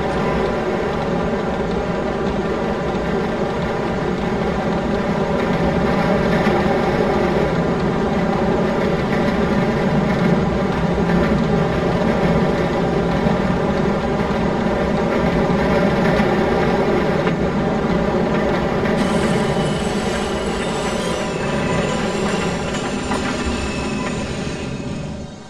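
A route 24 tram in Privolzhsk rolls along its rails with a steady, loud droning rumble heard from inside, and near the end the wheels break into a thin, high-pitched squeal.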